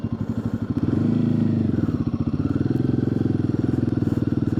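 Close, loud thumping exhaust of a Royal Enfield Himalayan 450 on a test ride, a rapid steady single-cylinder pulse that rises briefly as the throttle opens and then settles, with faint speech underneath.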